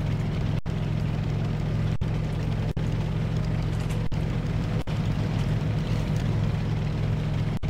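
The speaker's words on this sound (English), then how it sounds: "It is the tractor beam!" A steady, droning hum of a tractor beam in World of Warcraft: Warlords of Draenor, a continuous low rumble with a hissy wash on top that holds level throughout.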